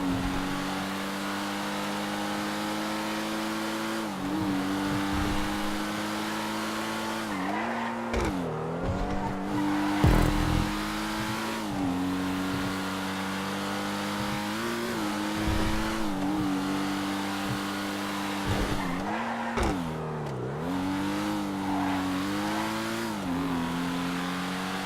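A Grotti Itali GTO sports car driving at speed in Grand Theft Auto 5, its engine holding a loud steady high-revving tone with repeated dips and rises as gears shift, and brief tire squeal, with no talk over it.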